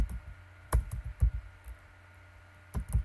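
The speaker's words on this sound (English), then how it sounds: "a quick trip to Google where we type in Podunk" Quick bursts of typing on a computer keyboard while entering a search query, heard as two short clusters of close, crisp key clicks separated by a quiet pause, with no talking.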